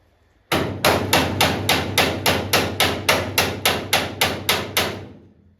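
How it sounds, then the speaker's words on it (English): Rapid, steady hammering on an Austin 7 Special under restoration at a classic car show: about a dozen loud, evenly spaced blows close by, each ringing briefly, with no talking. "now I'm just going to hammer it in"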